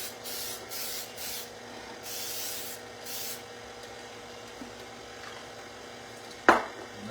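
Baker's Joy flour-infused baking spray greasing a cake pan for a carrot cake, heard as several short hissing bursts in quick succession early on, then quieter handling and a sharp clack of the pan near the end.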